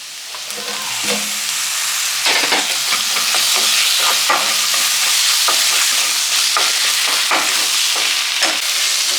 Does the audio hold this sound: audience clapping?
no